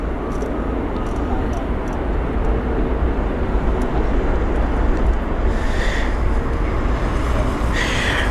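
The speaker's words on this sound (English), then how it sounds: "this aircraft that we're focusing on now in the distance, that's an A320-200 from Istanbul" An Airbus A320-200 from Istanbul approaching London Heathrow on a windy day: a steady, broad jet roar from a distant airliner, heavily mixed with gusting wind buffeting the microphone for the whole stretch.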